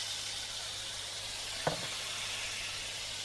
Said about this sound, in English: The frying pan has warmed up and the first thing we do is pour out the tomatoes.